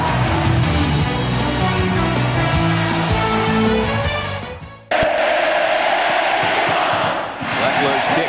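A large football stadium crowd roars for Texas A&M, a loud sustained wall of cheering and shouting that briefly dips and surges, with a broadcast announcer's voice mixed in.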